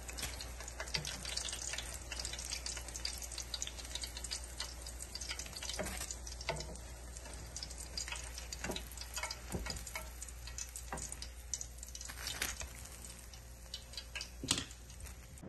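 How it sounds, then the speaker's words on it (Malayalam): Tuna cutlets deep-fry in hot oil, a continuous soft bubbling sizzle with scattered sharper crackles and pops, moderately quiet and steady, no voices. "ഇവിടെ കട്ട്ലേറ്റ് നല്ലതുപോലെ മൂത്ത് വന്നിട്ടുണ്ട്. ഇനിയും ഇത് എണ്ണയിൽ നിന്ന് കോരിയെടുക്കാം."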